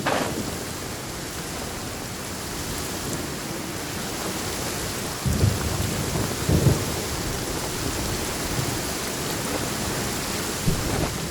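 Steady heavy rain hisses through a Genshin Impact scene while low rolls of thunder rumble in twice near the middle, with a faint third rumble near the end.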